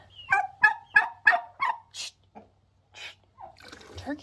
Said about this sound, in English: Turkeys are too friendly.